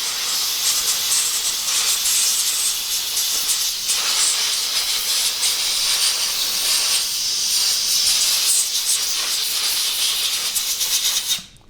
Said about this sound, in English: let me get the air hose since you got the camera. Okay, let's blow it off.